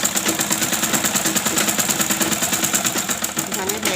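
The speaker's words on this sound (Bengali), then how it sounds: "এখানে ব্যাগ স্টিচ দিয়ে দেবে।" Sewing machine stitching a bag seam, a loud, fast, steady mechanical rattle of the needle running continuously at close range.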